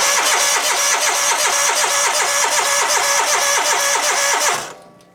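A Kohler engine on a Massey Ferguson 2818H riding mower that has been sitting a while cranks steadily without firing, with a rapid rhythmic starter churn for several seconds before it stops. No one speaks.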